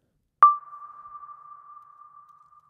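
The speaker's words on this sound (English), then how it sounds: "now we can play this test tone to bus B" A single sine-like test tone pings sharply once through a reverb synth in SuperCollider, then hangs as a long, steady, fading reverberant tail with nothing else present.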